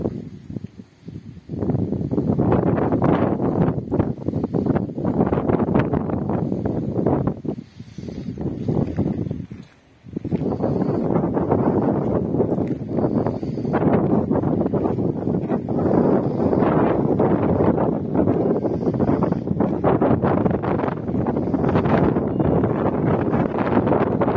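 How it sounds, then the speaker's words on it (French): Wind buffets a Poco M3 phone microphone outdoors, loud rumbling gusts that roar almost continuously, briefly dropping away twice before surging back, with no voices. "Là il y a un peu de vent. C'est peut-être pourquoi ça va souffler un petit peu."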